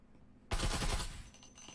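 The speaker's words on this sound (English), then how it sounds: "Shooting through the wall." A burst of automatic gunfire in a tactical shooter video game, fired through a wall to clear a room, with rapid loud shots beginning abruptly and ringing out into a fading tail.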